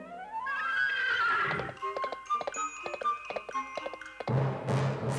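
A horse whinnies loudly with a rising, wavering call in a cartoon, followed by a stretch of ringing, clock-like chimes and a low rumble at the end.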